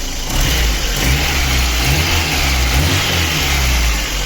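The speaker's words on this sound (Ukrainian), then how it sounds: "Ось так працює наш моторчик, просто шелестить." A VAZ 2108 1.3 car engine idles steadily nearby after a cylinder head replacement, a smooth low hum with slight rises in revs and no talking.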